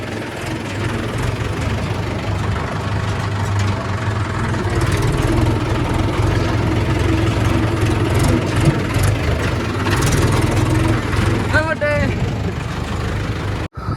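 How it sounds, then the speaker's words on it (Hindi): A tractor engine idles and runs steadily at close range throughout, with a low rumbling drone and people talking over it. "पहले ट्रैक्टर लगा देता हूँ"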